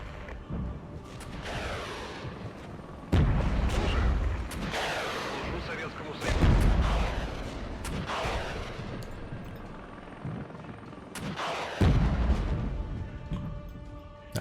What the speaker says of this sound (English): Let's put some heavy artillery onto these tanks.